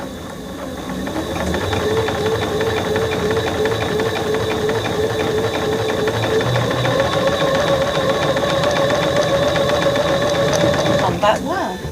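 A sewing machine stitches fabric along a marked line in a steady, whirring mechanical run with rhythmic needle clatter, close and continuous for about eleven seconds, ending in a brief rattle; a voice talks over it.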